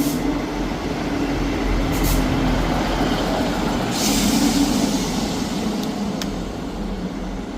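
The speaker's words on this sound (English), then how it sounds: "Arriving in now is the 11:49 Scotrail service from Perth to Edinburgh Waverley." Scotrail class 158 diesel unit 158733 pulling into Edinburgh Haymarket station on a service from Perth, with a steady loud rumble and a few brief higher squeals from the wheels and brakes throughout.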